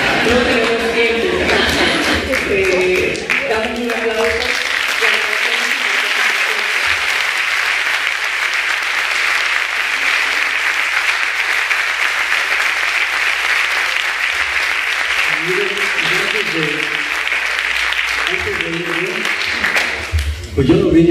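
Audience applause at a human rights and ethics forum, a long sustained wave of clapping from a large crowd, with a speaker's voice heard briefly at the start and again near the end.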